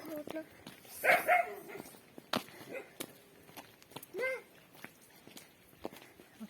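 A dog barks a few times in short bursts, mixed with a person speaking and light footsteps nearby.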